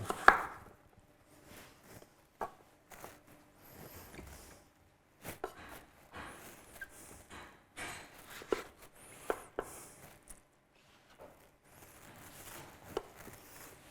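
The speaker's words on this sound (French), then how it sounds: "Et on va couper maintenant des gros morceaux comme ça." A knife cuts food into large pieces on a board, making scattered, fairly quiet knocks at an irregular pace with soft handling noises between strikes.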